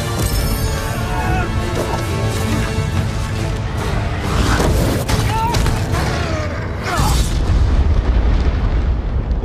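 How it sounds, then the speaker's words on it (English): Deep earthquake-like rumble of a dragon in The Hobbit: The Desolation of Smaug trailer, heavy booming crashes and rumbling surges under dramatic trailer sound, loud throughout. "Was that an earthquake?"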